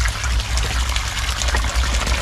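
A water pump powered by a Bluetti EB240 portable power station sends water gushing out in a strong, steady stream, with a continuous loud pouring wash that holds unbroken from start to end.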